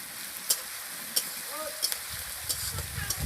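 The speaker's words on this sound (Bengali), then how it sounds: "রসুন বাটাটা কিছুক্ষণ নাড়তে হবে কড়া।" Garlic paste frying in a hot pan while being stirred, a soft continuous sizzle broken by sharp utensil scrapes and clicks at irregular intervals, close up, with faint low rumbles toward the end.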